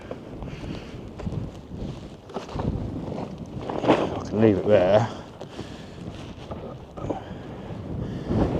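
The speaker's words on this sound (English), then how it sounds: "it's really windy today" Strong gusts buffet an outdoor microphone while someone turns compost in a garden, a rumbling low roar that swells and fades unevenly, with a person speaking briefly over it.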